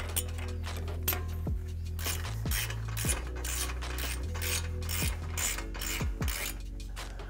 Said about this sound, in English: There's just gonna be two big fat bolts here in the rear that you wanna undo,